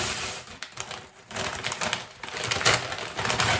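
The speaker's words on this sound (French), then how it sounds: "Je n'ai pas encore ouvert le colis. On va l'ouvrir ensemble." A parcel being opened by hand, with close, busy crinkling and tearing of packaging in quick irregular bursts and no talk.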